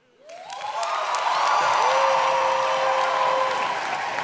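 Applause at a poetry slam final swells quickly into a loud, sustained ovation with scattered cheers and whoops, with rising whistle-like tones on top.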